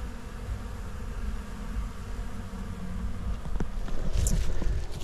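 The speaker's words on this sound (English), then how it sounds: "I looked up and noticed just a ton of bees, just like today," A swarm of honey bees buzzing in a bee yard among pine needles in mid-December, a dense continuous hum with light wind rumble, growing slightly louder toward the end.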